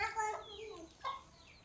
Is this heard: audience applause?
no